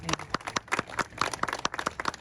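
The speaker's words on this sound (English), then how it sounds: "give yourselves a round of applause" A small crowd claps at a state senator's announcement event at Roosevelt Elementary in Broome County, producing short, separate, uneven hand claps close by rather than a full roar.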